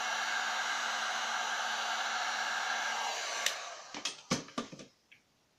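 A heat tool blows a steady, loud rush of hot air onto a craft coaster tile, then cuts off, followed by several sharp clicks and knocks as it is set down.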